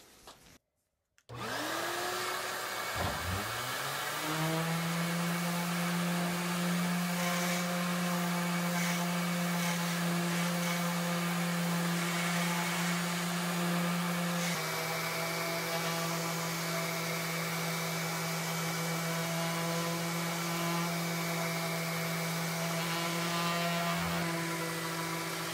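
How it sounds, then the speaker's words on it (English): An electric sander with a vacuum attached works over an antique tea cart, switching on after a moment into a loud, steady whining drone that holds unbroken for over twenty seconds with slight shifts in pitch. "Now I use a vacuum on my sander here."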